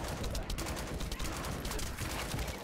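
Dense, continuous rapid gunfire while fighting a boss in the video game The First Descendant, a steady loud barrage of shots without pause, with talking mixed in.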